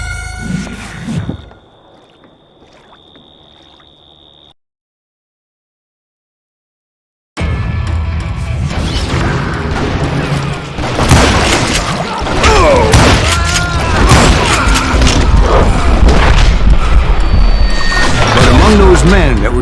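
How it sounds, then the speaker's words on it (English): Booming gunfire volley in Call of Juarez Gunslinger, bursting in loud and dense after a near-silent gap, with rapid repeated shots and music layered over several seconds. "a fusillade of bullets come raining down from on high"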